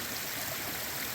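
Water runs down a wet, rocky mountain trail descending from the summit of Mount Moosilauke, a steady close rushing trickle lasting only a moment.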